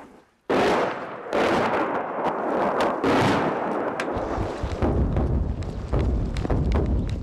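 Artillery shelling near a frontline village in Ukraine's east, heavy blasts booming in several hits with long rumbling tails that overlap into a sustained roar, loud and fairly close.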